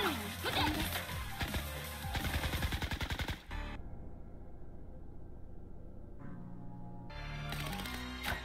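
Rapid video game gunfire from the game Blue Archive, with dense automatic bursts and crashing impacts, then a sudden cut to a quieter stretch before the loud effects return.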